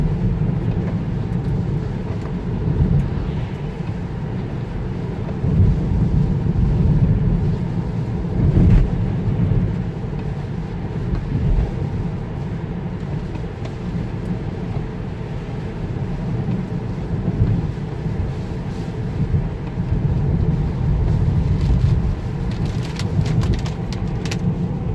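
A Tesla Model 3 drives on Autopilot through rain: steady low road and tyre rumble with a wet hiss of rain from inside the cabin, continuous and moderately loud, with no talk.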